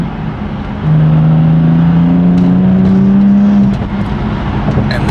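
A lightweight-build BMW M4 driving, its engine rising into a loud, smooth rev that holds for a few seconds, then drops back to a lower cruising hum, heard from inside without talk.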